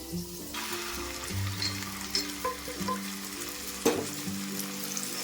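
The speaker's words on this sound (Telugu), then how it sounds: "ఇది కూడా మనం బాగా వేయించుకోవాలి సగ్గు బియ్యం కూడా మనకు బాగా ఎగిపోయినా చూసారా ఇలా వేగాలి" Soaked sago pearls fry in a pan with a soft, steady sizzle, punctuated by faint scraping and small clinks, quiet and close with no talking.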